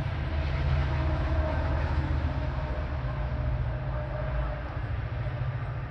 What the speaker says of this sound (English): Another train? Really?